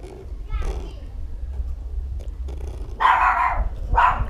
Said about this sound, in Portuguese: Ô, cachorro do Jânio.